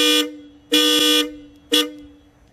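Hella horns fitted to a 2015 Ford Explorer, sounding three loud, close honks: two short blasts and one longer one, with brief pauses between them.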